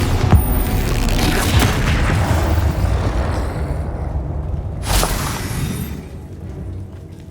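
Spell explosions from Confringo and Bombarda in the video game Hogwarts Legacy: a dense, loud run of booming blasts and crackling impacts, with a fresh burst near the five-second mark, all without talk.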